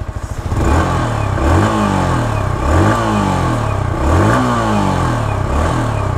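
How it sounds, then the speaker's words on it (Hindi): A 2022 Yamaha R15 V4 motorcycle with a fibre muffler cover revs repeatedly, its loud exhaust note climbing and falling in four or five quick throttle blips after a short idle, close to the microphone. "तो ये है गाइज वी फोर का एग्जॉस्ट नोट"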